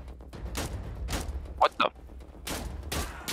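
Gunfire in the video game Insurgency Sandstorm, a few broad bursts of shots spread across the moment, moderately loud, with a brief pair of sharper sounds in the middle.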